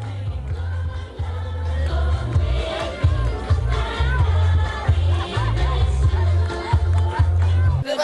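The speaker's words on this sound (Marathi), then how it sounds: "सलमानला शुभेच्छा देण्यासाठी गॅलेक्सी अपार्टमेंट बाहेर चाहत्यांची गर्दी पाहायला मिळते" A crowd of fans packs the street outside Salman Khan's Galaxy Apartment in Mumbai on his birthday, a loud blur of overlapping voices and chatter over a rhythmic low thumping beat.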